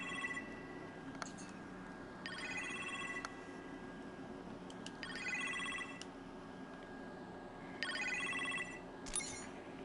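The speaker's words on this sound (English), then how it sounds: "You appear to have a phone call in the kitchen" A telephone rings in a house's kitchen, sounding in three or four repeated bursts of bright, electronic-style trilling separated by pauses, moderately loud over a quiet room background with no talking.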